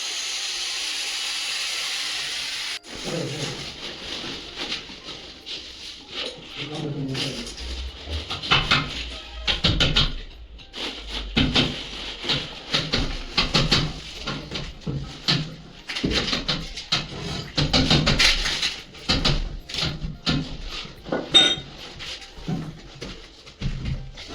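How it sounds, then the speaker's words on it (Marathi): An angle grinder fitted with a cutting disc slices through a metal angle nearby, giving a harsh, hissing, grating noise in uneven bursts that rise and fall over about twenty seconds after a quiet start. "तो ग्राइंडरचा पाता लावला आणि कट करायला सुरुवात केली"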